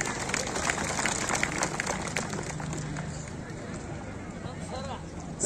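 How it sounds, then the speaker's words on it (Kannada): Crowd clapping at a village fair wrestling bout, a dense continuous patter of many hands mixed with crowd noise and talking, fading slightly toward the end. "ಚಪ್ಪಾಳೆ ತಟ್ರಿ"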